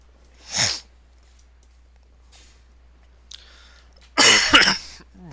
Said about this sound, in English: Getting a bad cough today.